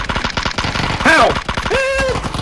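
Rapid automatic gunfire in the PUBG battle royale video game, a dense burst of repeated shots spraying at an enemy, loud and close, with voices shouting over the firing.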